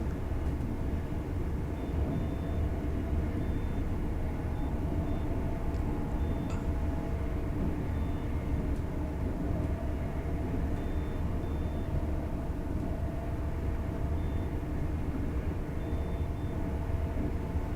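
A Class 801 high-speed train runs steadily in Train Sim World 4, a continuous low rumble and rolling drone holding level throughout with no talk.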